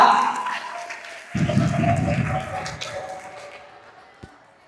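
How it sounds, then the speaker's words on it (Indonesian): Audience applause breaks out at an Islamic boarding school speech contest held in Indonesian, Arabic and English, a loud burst of about two seconds that tapers off, with a voice speaking before and during it. "Beri tepuk tangannya sekali lagi yang meriah."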